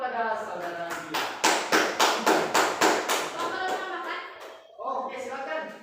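A class in a school guidance-counselling session claps for a student named Gilang, giving a crisp run of about eight even, rhythmic claps, with voices talking before and after.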